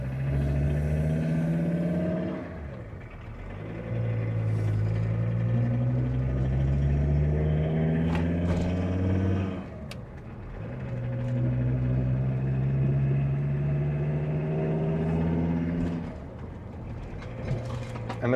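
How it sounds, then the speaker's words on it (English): Non-turbo 2.4 car with a big bore stainless exhaust driving through a village, a steady loud engine drone with rising and falling pitch as it accelerates and shifts gears, no talking. "Let's just do a little bit of village drive and then out onto some quick road."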